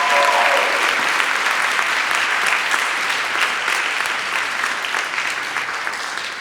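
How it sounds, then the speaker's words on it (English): Loud, sustained applause from an audience at an artist conversation honoring the event's organizer, Irene Sunwoo, a thick continuous roar of clapping that tapers slightly toward the end. "can everybody give a round of applause for Irene Sunwoo"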